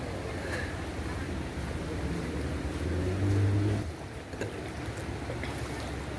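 A boat passing on the river at Dubare elephant camp near Kushalnagar, Coorg, gives a steady engine rumble over water that swells louder for a moment and then eases back.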